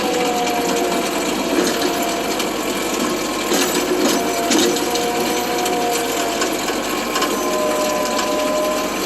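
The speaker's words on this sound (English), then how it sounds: "Bog the tractor down a little bit, but it's pulling that log." Farmi skidding winch driven by a tractor's PTO drags a log, a steady mechanical drone of engine and winch running continuously and slightly bogged under load, with no pauses throughout.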